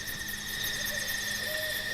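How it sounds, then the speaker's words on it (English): A barred owl hoots out in a wooded Oklahoma wilderness area, a repeated low call heard at moderate distance over faint steady background noise, with no talking. "Oh, it's a barred owl."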